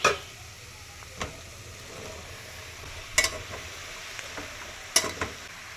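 Ridge gourd pieces dropped into a frying pan already holding fenugreek leaves and coriander. A soft sizzle runs beneath a few sharp clatters and stirring knocks spaced across several seconds.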